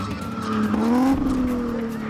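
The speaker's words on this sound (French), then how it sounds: "La première voiture s'engage." High-displacement car prepared for a spinning show on a 20-metre track in Johannesburg, its tyres squealing in a loud, sustained skid over engine roar, close by.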